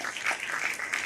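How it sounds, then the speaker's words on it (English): Audience applause at a community photostory presentation in Moss Park: steady, moderate clapping from a crowd sustained through the whole brief moment, with no voices standing out. "a round of applause for them"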